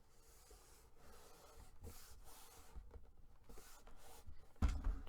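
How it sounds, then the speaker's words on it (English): Glued paper is burnished onto a storage box with repeated soft rubbing strokes, faint and close, ending in a sharper knock or thump. "And I'm burnishing it as well as I can to get it to adhere."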